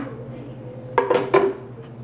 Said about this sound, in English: we're going to get a baking dish